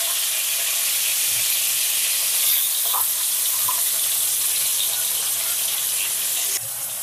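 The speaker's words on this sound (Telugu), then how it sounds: "ఇలా గోల్డెన్ బ్రౌన్ వచ్చేంత వరకు మనం ఫ్రై చేసుకోవాలి" Stuffed ivy gourds fry in hot oil until golden brown, giving a loud, steady sizzle that holds throughout, with a few faint clinks and no talking.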